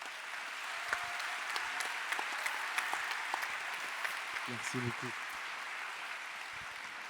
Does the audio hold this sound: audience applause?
yes